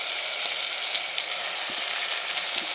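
Mutton pieces are added to tomatoes already frying in a pan and sizzle steadily over high heat. The hiss is loud and close, broken by occasional light scraping from stirring.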